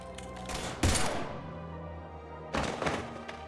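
Gunfire in Mass Effect 3 Legendary Edition: two loud, close bursts of shots about two seconds apart, each trailing off into a ringing decay.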